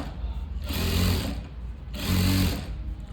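A sewing machine stitches along the edge of a puff sleeve in two steady whirring runs, each with a rapid mechanical hum, separated by a brief lull.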